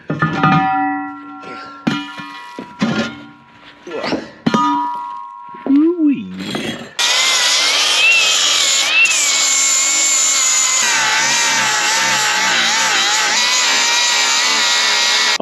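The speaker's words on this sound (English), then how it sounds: "I'm gonna grind this side down a little bit" Several sharp metallic clanks and knocks on a plate, then a power tool starts grinding down a weld, a loud, continuous harsh whine that wavers in pitch and carries on to the end.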